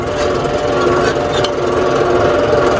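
A tractor's diesel engine runs with a steady, loud, unbroken rumble and chug throughout, close by, with people talking over it.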